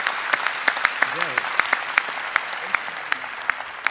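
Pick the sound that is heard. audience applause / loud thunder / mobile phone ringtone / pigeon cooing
audience applause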